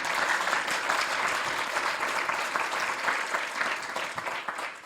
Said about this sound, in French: On peut vous applaudir également.